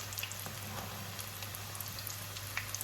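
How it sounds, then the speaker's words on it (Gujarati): Samosas frying slowly in oil over low heat, a steady soft sizzle with faint crackling bubbles continuing without a break, fairly quiet and close, no voices. "એકદમ ધીમા તાપે એને સમોસાને તળવાના છે."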